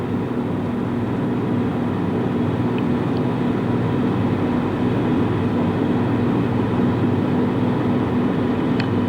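A B-24 bomber in flight gives a steady, droning engine hum with a constant low tone, continuous and unchanging throughout.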